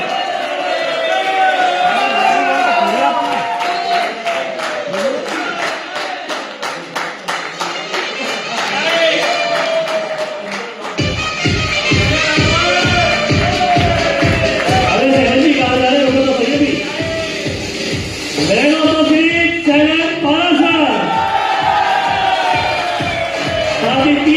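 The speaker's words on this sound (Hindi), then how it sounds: "जोरदार तालियां रूटीन के साथ ये तालियां बजी रहे साथ में।" Loud sustained applause from a large crowd at a cricket tournament final ceremony, with rhythmic clapping in unison dominating the second half and shouts mixed in.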